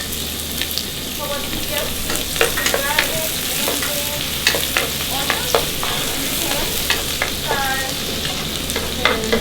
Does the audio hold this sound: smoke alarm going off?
no